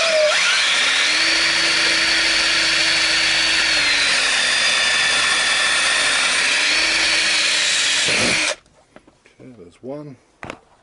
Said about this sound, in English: Use a small pilot drill to start off with.